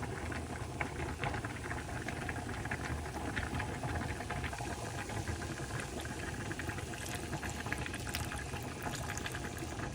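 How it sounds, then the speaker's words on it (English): Broth poured into a pot of turkey dirty spaghetti on the stove, a steady, dense liquid rush and bubbling that runs evenly and fairly loud for the whole stretch, with no talking. "Gonna add the broth now."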